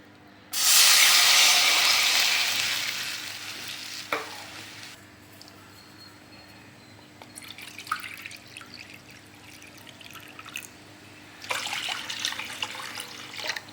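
Water poured into a hot pan while making semiya kesari gives a loud burst of sizzling hiss that slowly fades over several seconds, followed by quieter bubbling, stirring and a later rise of spattering.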